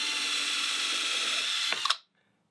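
A power drill bores through a wooden seed box with a steady, close whine that ends in a brief clatter as the bit breaks through, then cuts to silence.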